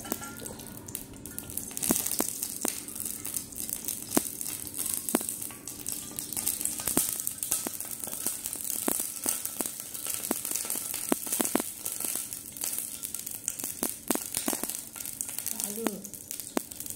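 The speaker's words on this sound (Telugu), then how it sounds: "ఆయిల్ వేసేసుకొని ఫ్రై చేసేసుకుందాం." Oil heating and sizzling in a miniature pan, ready for brinjal pieces, with a steady broadband hiss and scattered sharp crackles and clicks throughout.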